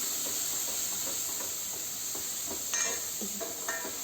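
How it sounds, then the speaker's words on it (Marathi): Chopped onion frying in oil in a pan for a spicy okra dish, a steady close hiss and sizzle with a few light knocks and scrapes of a spoon stirring near the end. "आता इथे कांदा टाकला आहे मी कांदा पण आपल्याला थोडासा ट्रान्सपरंट होईपर्यंत फ्राय करायचा आहे"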